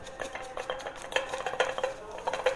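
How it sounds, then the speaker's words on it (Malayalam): Mint leaves being crushed with two tablespoons of sugar and a pinch of salt, giving close, rhythmic grinding and tapping strokes against a vessel, steady and fairly loud. "2 ടേബിൾ സ്പൂൺ പഞ്ചസാരയും ഒന്ന് ചതച്ചു കൊടുക്കാം."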